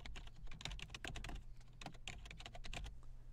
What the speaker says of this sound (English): maybe I'll type in the title of a book I'm currently reading